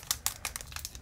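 Plastic wrapper of a Pokémon card booster pack being snipped and opened, giving a quiet series of short crinkles and crackles close by.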